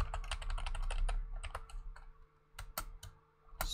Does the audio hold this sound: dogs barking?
no